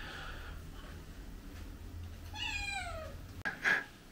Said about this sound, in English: Oh, I can hear a cat meowing at me.